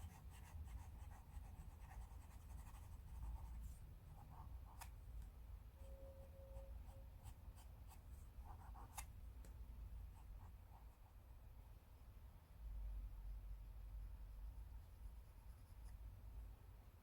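Natural charcoal scratches and scrapes across paper during a portrait drawing, with soft continuous strokes broken by sharper taps and flicks, close and quiet.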